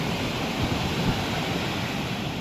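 Steady ocean surf rushes continuously, a broad even wash of waves with wind noise and no voices.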